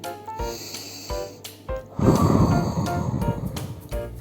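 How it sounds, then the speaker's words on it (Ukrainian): A person draws a breath in through the nose, then blows hard and steadily through pursed lips, as if inflating a balloon. After a short, quiet intake, a loud, close, rushing gust of breath follows and holds for a couple of seconds. "беремо вдих носиком, губи змикаємо в трубочку і сильно-сильно-сильно дмухаємо"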